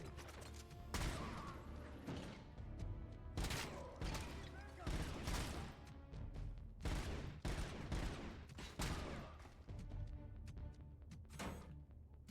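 Gunfire in the RoboCop: Rogue City video game, repeated sharp shots and bursts at irregular intervals with mechanical clanks between them, fairly quiet overall.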